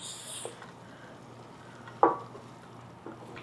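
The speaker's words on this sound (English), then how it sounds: "And then we're going to stir that up." A spoon stirs risotto with cheese in a pan, giving soft scraping and a quiet sizzle, with one sharper clink of the utensil against the pan near the middle.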